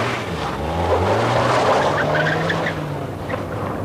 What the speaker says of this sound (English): When the car is driven hard on this test track